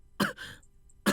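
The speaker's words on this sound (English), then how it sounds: "I heard Okita begin to cough." Man in the video game Hakuoki, the character Okita, coughs sharply twice, close and dry, with a brief rasping breath between.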